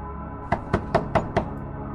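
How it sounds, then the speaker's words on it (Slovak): Five short, sharp knocks strike a metal door in quick, evenly spaced succession, close and loud against a quiet background hum. "3 krátke údery na kovové dvere."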